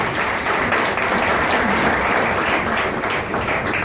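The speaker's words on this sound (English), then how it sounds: "so give him applause." An audience claps together in a dense, even round of applause that holds steady and fairly loud throughout.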